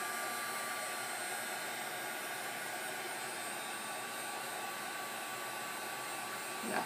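A heat gun blows steadily to melt embossing powder on a scrapbooking M&M's embellishment held with a pick, a constant airy roar that stays level and close for the whole stretch.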